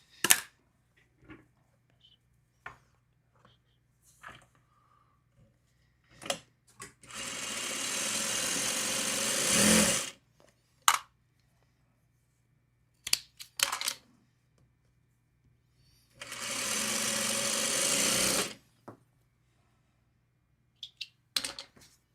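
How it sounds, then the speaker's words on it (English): A sewing machine stitching across the top of fabric runs in two steady bursts of about two to three seconds each, close and even, with scattered handling clicks and taps in the gaps between runs. "I'm gonna sew across the top here."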